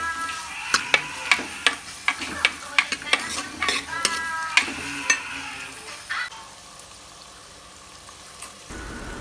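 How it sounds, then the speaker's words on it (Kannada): Onions stir-fried in a pan for Kerala-style squid curry, with a steady sizzle under repeated sharp scraping and clinking of a spatula against the pan for most of the clip, fading toward the end. "ಆಮೇಲೆ ಈರುಳ್ಳಿ ಹಾಕಿ ಚೆನ್ನಾಗಿ ಫ್ರೈ ಮಾಡ್ಕೊಳ್ಳಿ"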